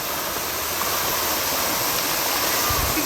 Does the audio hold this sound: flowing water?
yes